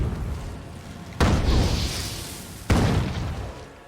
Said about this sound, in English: Are you bringing in the bombs again?